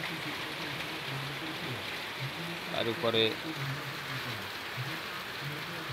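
Steady rain falls over flooded fields, crops and houses, a constant hiss running throughout, with a person talking partway through.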